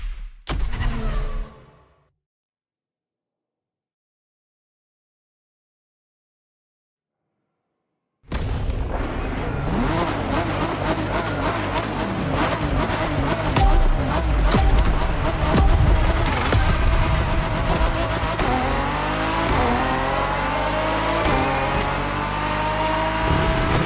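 A race car in The Crew Motorfest roars back to life after a brief engine burst and several seconds of silence, then holds a loud, steady drone of revving and gear changes with rising and falling pitch sweeps for the rest of the run.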